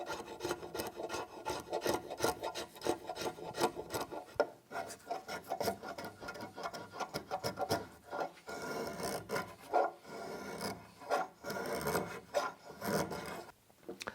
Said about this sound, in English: the Shinto rasp for just taking the high spots out of the seat to get everything nice and level